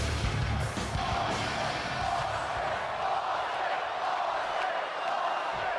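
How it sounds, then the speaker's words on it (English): Arena crowd in the WWE 2K24 wrestling video game chanting for Stone Cold Steve Austin, a dense, sustained roar of many voices at moderate distance, slightly fading over several seconds. "You hear the crowd chanting for Stone Cold Steve Austin."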